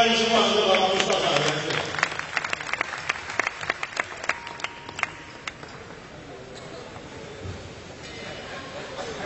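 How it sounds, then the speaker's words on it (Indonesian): An audience claps at a stage gathering: a loose, scattered burst of handclaps that thins out, with talk and room noise at the start. "tepuk tangan semua untuk Bapak Mustafa."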